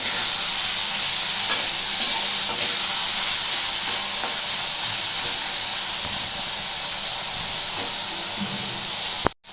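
Loud, continuous sizzling and hissing of prawns frying in hot oil in a pan, with occasional stirring scrapes, ending abruptly.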